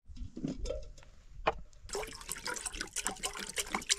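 Water being poured into a kettle to boil for pasta, a short splashing trickle that gives way to a steadier, louder rush of filling water, close by with no talk.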